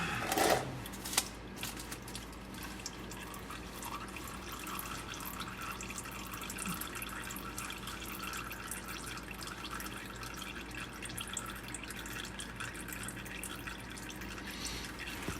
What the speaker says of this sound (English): let the majority of the oil just drip out of there before I spin it the rest of the way